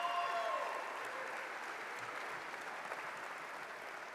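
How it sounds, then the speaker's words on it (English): An audience at a mayor's State of the City address applauds for sponsors and leaders, a steady wash of clapping that starts with a faint whistle and then holds evenly for about four seconds, moderately distant. "Let's give all of our sponsors and leaders one more round of applause."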